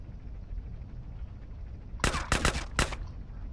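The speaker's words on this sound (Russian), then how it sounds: "Стреляю в висячий замок на передней стороне контейнера с беженцами." Four sharp gunshots at a padlock on the front of a refugee container in GTA San Andreas, fired in a quick uneven burst after a stretch of low game ambience, loud and close.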